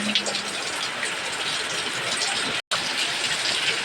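Steady, continuous rain hisses and patters outdoors, a dense even wash at moderate level with no talk, broken only by a split-second dropout partway through.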